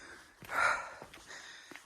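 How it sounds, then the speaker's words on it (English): A single short nasal sniff from a hiker on a cold mountaintop trail, quiet and close, with faint outdoor background before and after. "Excuse the sniffling."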